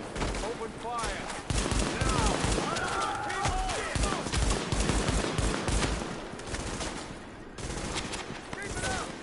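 Rapid gunfire in Tom Clancy's The Division, a dense fusillade of automatic bursts and cracking shots from several weapons, loud and sustained, mixed with shouted voices in a chaotic firefight.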